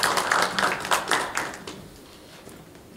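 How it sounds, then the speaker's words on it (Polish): An audience at a formal conference claps, a brief burst of separate hand claps that is loudest at first and thins out to quiet within about two seconds. "a zgromadzonych prosiłbym o oklaski."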